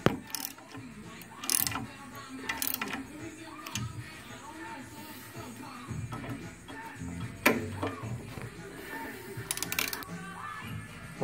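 Bolts on a Volkswagen clutch being tightened with a ratchet, irregular clicking and metallic ticks with occasional sharper clanks, close and moderately loud, mixed with shuffling handling noise.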